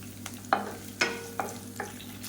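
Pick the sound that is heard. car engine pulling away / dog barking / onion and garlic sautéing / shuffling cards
onion and garlic sautéing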